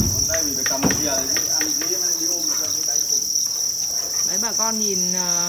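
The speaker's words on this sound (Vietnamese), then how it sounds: "Đây sẽ tiến hành rũ của thùng dế của bác khách hàng này." Crickets from a farmed cricket bin being shaken out, a dense, steady chirping of many insects close by and continuous throughout, with someone talking over them.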